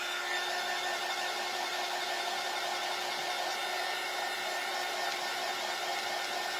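A hair dryer blows steadily and loudly on fresh paint drying on a craft gnome sunflower shelf sitter, a constant whooshing whine without pause or speech.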